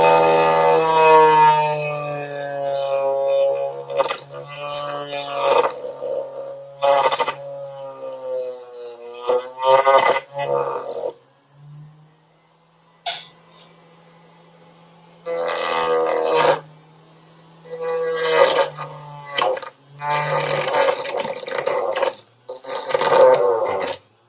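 A rotary tool fitted with a small saw blade cuts a wooden piece about 1/8 inch thick, giving a high motor whine broken by repeated harsh bursts of cutting, with short pauses between passes.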